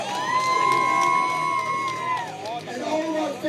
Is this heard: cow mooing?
no